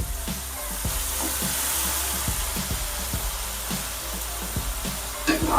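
Cauliflower roasting in a pan, a soft steady sizzle with regular scraping taps of a spoon stirring the pieces, fairly quiet and close.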